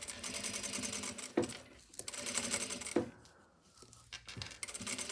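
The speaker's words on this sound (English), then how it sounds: "I'm just sewing my facing down on the wrong side." A sewing machine stitches a jacket facing down on the wrong side: steady whirring runs, close by, broken by brief clunks and pauses, with no talking.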